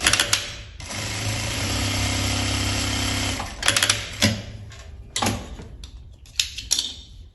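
An electronic industrial straight-stitch sewing machine runs in short bursts as it sews backtack stitches, a steady mechanical whir broken into several stop-and-start runs with clicks between them, close and loud, with no talking.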